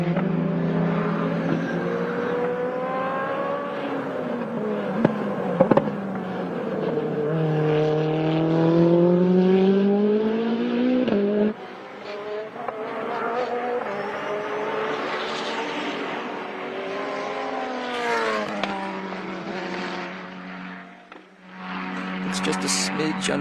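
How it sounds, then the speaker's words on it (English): A K-Series Lotus Exige race car drives on track at a time attack event, its engine rising and falling in pitch through gear changes as it passes, with commentators talking over it. "this is a K-Series Lotus Exige right, too, yeah. So it's no short on horsepower."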